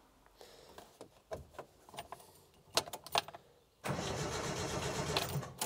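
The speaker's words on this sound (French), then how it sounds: "le démarreur marche" A Suzuki Samurai's starter motor cranks after several clicks and scrapes, then catches into a loud continuous engine run that holds steady to the end, recorded close up.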